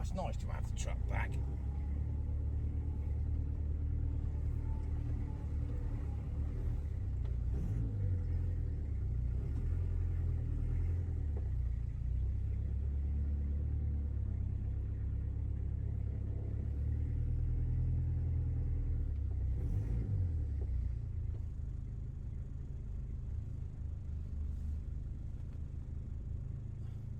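Toyota Hilux truck on the road, its engine producing a steady low rumble from inside the cab while driving, with a person speaking over it at moments.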